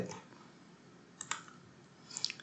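Ctrl+Alt+Z undo shortcut keys pressed on a computer keyboard during Photoshop editing, giving a few quiet, sharp clicks around the middle and a short cluster near the end over a soft room hiss.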